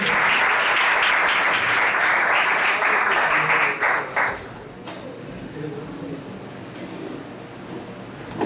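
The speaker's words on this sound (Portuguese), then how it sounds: "E as palmas louvam ao Senhor." A church congregation applauds in praise during an evening service, a full, steady round of clapping that fades out after about four seconds, followed by a quieter room with a voice speaking.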